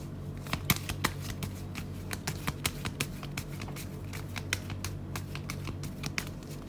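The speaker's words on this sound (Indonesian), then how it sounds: "Aku akan shuffling kartunya." A deck of cards shuffled up close, with a quick run of crisp riffling ticks and snaps repeating steadily throughout, and no talking.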